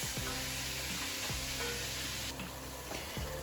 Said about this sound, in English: I switched to a whisk and it makes breaking up that ground beef so much easier